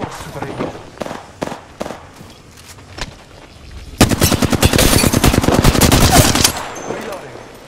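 Video game gunfire starts as scattered single shots with gaps, then breaks into a loud, sustained rapid-fire automatic burst for about two and a half seconds, close and sharp.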